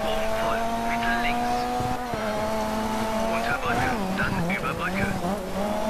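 A rally car in DiRT 3 drives hard with a sustained engine drone that rises and dips through gear changes, with brief tire scrabble, while someone talks over it throughout.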